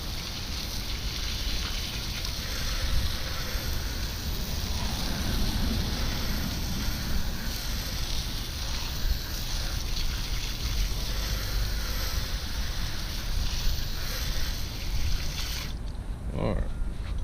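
A water hose sprays steadily, rinsing wheel cleaner off a car wheel, a continuous broad hiss that runs throughout and ends abruptly near the close.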